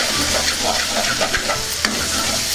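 Tomato pieces and spices are stirred in a hot frying pan, with a steady loud sizzle and a few scraping strokes of a spoon, one sharper knock near the end, and no voices.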